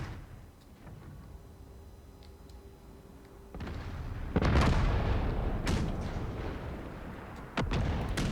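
Artillery salvos in a Empire Total War battle, a few deep booming cannon shots after a quieter stretch, each followed by a rumbling tail.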